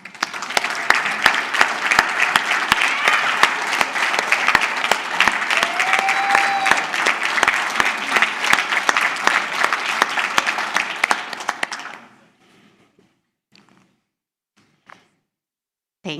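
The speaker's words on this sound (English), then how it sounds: "let's give them a round of applause." Audience applause for award finalists at the 2022 VGM Awards ceremony, a dense sustained ovation for about twelve seconds that cuts off abruptly, followed by near silence with a few faint knocks.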